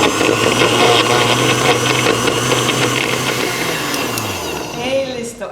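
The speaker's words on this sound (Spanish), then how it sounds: "Ahora lo que vamos a hacer, vamos a licuar" A blender runs steadily, whirring through a coffee-flavored protein shake with dates. The motor drone is loud and continuous, and it winds down near the end.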